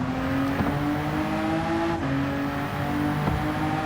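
A race car in a racing video game accelerates out of a corner, its engine droning steadily with rising revs and brief shifts, loud and close, with no talk.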